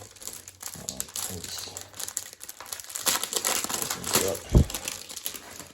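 Plastic packaging wrapper from a Warhammer 40k Recruit Edition box crinkles and crackles up close in irregular bursts, louder toward the end, with faint talking underneath.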